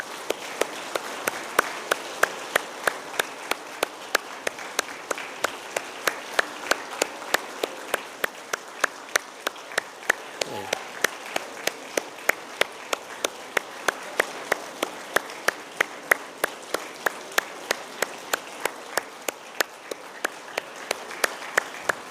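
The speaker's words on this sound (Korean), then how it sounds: "받으신 분들 다 앉을 때까지 우리 뜨거운 박수로" A church congregation at a Sunday service applauds warmly, a steady, sustained clapping from a large crowd in a hall that carries on without a break for over twenty seconds.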